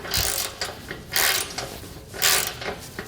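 A ratchet tightens bolts on a Malone EcoLight Sport trailer, making steady repeated clicking strokes in three louder bursts up close with no talk.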